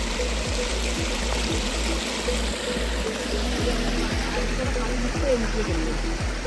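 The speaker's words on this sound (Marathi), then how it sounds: "इथे पण पाण्याचा झोत मस्त आहे वरती बघा जबरदस्त वॉटरफॉल" Steady, loud rush of Kundi waterfall pouring down, filling the whole scene, with regular low thumps like footsteps beneath it.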